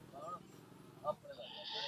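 A goat bleats in short calls at the Sukhna Ablu goat market in Punjab, heard amid the murmur of people talking and haggling.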